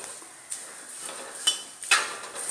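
Roasted coconut being stirred in a hot pan on a switched-off gas stove, a metal spoon scraping and clinking against the pan in a few close, irregular strokes.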